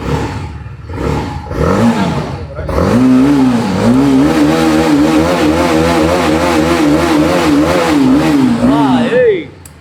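A Royal Enfield Bullet motorcycle at a Chennai bike shop revs up and holds a steady, loud, close thumping exhaust beat with rising and falling throttle blips, after a few short blips at the start; voices may be faintly under it.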